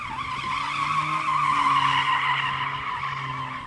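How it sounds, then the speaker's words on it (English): A Mercedes-AMG A45 S, a four-wheel-drive hatchback in drift mode, slides with one long, steady tire squeal held for several seconds, loud and close over a low engine drone. "that Mercedes has a very clever drift mode where it can somehow slide even though it's a 4-wheel drive car"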